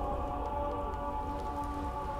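Steady rain falling outside a room, a continuous even hiss with soft patter, heard alone at moderate level without talk.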